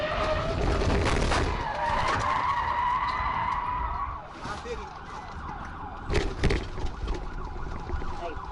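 Tires skid loudly as a police car rams a fleeing Chevy Tahoe SUV during a high-speed chase above 100 mph, with engine roar and road noise throughout, a brief lull, then fresh sharp scraping bursts.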